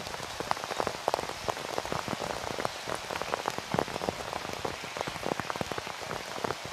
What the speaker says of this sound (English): Looks more than just a band of rain at the moment.